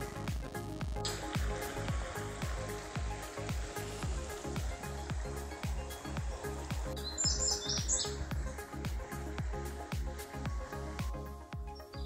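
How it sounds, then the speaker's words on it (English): Birds chirp and call all around outdoors, with a steady layer of repeated clicking and buzzing insects or frogs underneath. "you can hear the birds behind me, or in front of me, they're all around me."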